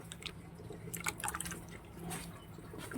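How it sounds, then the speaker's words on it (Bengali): Elephant foot yam being washed in hot water, faint soft splashing and dripping with a few brighter water sounds, quiet and close, no talking. "এবার একটু গরম জলে আর একটা ধোয়া দেবো"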